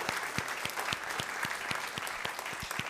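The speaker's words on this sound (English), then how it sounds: "one more round of applause for all our speakers tonight" An audience applauds the speakers at an evening community storytelling event in Lafayette Parish, a dense, even round of clapping with some distinct nearby claps, moderately loud and without talk.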